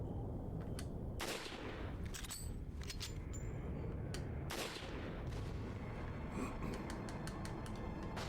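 Gunfire in the Resident Evil 4 video game: loud, dense game audio with several sharp shot bursts, including two heavy blasts, then a quick string of rapid cracks near the end, with no speech.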